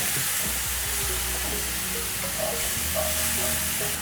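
Mushrooms sizzle and fry in a pan as they release their water, a steady crackling hiss with scattered soft clicks and scrapes from stirring throughout.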